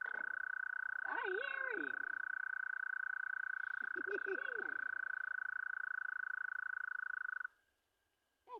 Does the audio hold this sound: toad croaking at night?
yes